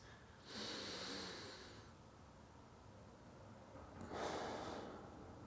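Two slow, deliberate breaths, each a long airy inhalation followed by a pause, taken with chest expansion during a 90/90 hip lift exercise; close, soft and quiet with no talking.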